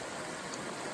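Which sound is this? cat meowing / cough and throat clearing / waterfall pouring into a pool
waterfall pouring into a pool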